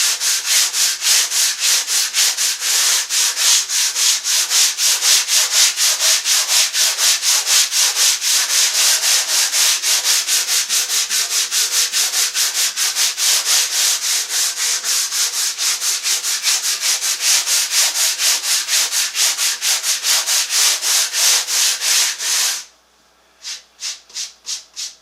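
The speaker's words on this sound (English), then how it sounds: "I'm just using plain old sandpaper. So let's give this a sand" Sandpaper rubbed by hand across a Victorian wooden end table, a steady rasping scrape in quick, even strokes that runs loud and continuous before stopping abruptly near the end, followed by a few short scrubs.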